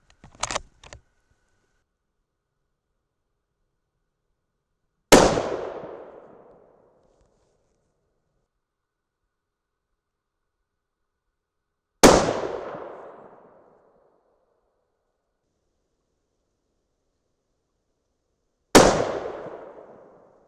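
Three loud rifle shots from a Thompson Center Compass chambered in 6.5 Creedmoor ring out several seconds apart, each a sharp crack with a fading tail, after a few faint clicks at the start.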